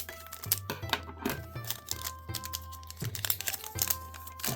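A crinkly plastic wrapper on a pack of 2024 BBM baseball cards crackles and rustles in quick, irregular bursts close up, with sharp tearing and crunching handling noises and no speech.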